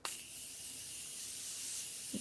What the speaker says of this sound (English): I'm gonna actually go back in with the Morphe mist.